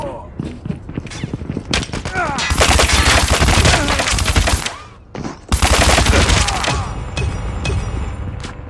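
Rapid automatic gunfire in Call of Duty, dense sustained bursts of shots close and loud with a short pause between two long volleys, brief talk mixed in.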